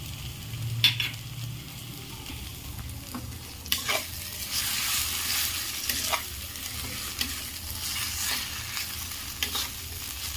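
A pan of frying bean mash with fried onion being mixed in sizzles steadily while a spoon scrapes and stirs in repeated strokes, close and fairly quiet.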